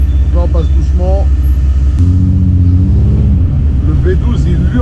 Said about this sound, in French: Le V12 il hurle à la mort.